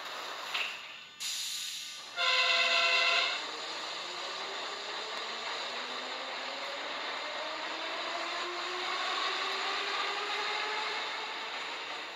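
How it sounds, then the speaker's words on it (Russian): Kyiv Metro Masters subway train in a tunnel gives a short loud horn blast after a couple of mechanical clunks, followed by a long rising whine and hiss as the train moves off, no voices. "просто поезд просигналил"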